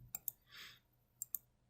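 Computer mouse clicks while navigating a survey authoring page: two sharp clicks, a soft hiss, then two more clicks, faint and close in a quiet room.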